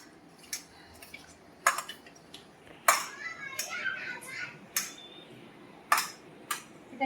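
Soft, irregular wet squelches and light taps as katla fish pieces are worked by hand with salt and raw mustard oil in a bowl, quiet and close, with occasional sharper clinks.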